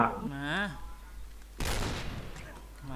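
Gunfire in the EDENZ video game: a loud, sustained burst of rapid shots lasting about a second, with a voice talking just before and again as it fades.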